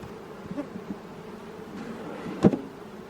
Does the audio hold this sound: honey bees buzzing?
yes